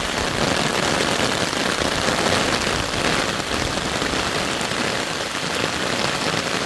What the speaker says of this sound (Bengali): বৃষ্টি হইতেছে অনেক সময় ধরে।